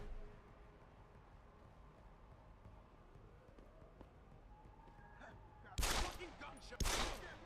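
Gunfire in the stealth shooter game Deus Ex: Human Revolution: a low bed of game ambience and small effects, then two loud, sharp bursts of shots near the end.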